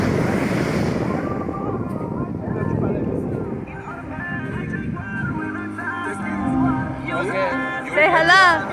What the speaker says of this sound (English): and look at the waves